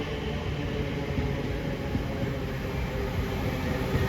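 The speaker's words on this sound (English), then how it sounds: "Bound for Paddington as 345044 pulls in, heading for Heathrow Terminal 4." Class 345 unit 345044 on a Heathrow Terminal 4 service pulls into a station, a steady low rumble of wheels and motors, close and even, no talking.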